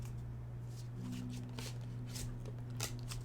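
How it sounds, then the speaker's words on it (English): A deck of playing cards is shuffled with a steady run of soft riffling and papery flutters over a low constant hum, close by. "So I'm going to shuffle the deck."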